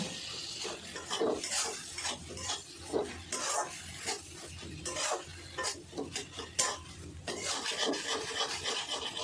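Chopped tomatoes are sautéed and stirred in a pan for a prawn and bottle gourd curry, with repeated scraping and rasping spatula strokes over a faint, low sizzle.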